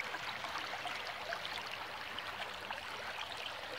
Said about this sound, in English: Ah, the creek's so full compared to last year.